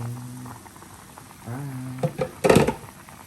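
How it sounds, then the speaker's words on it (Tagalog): Tinola chicken soup with malunggay and papaya boiling in a pot, a soft continuous bubbling and simmering with a few louder spluttering bursts toward the end. "Hayaan na natin kumulo siya."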